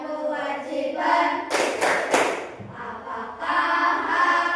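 Indonesian schoolchildren clap a rhythmic chant about rights and duties, with a loud cluster of sharp hand claps in the middle framed by group chanting voices before and after.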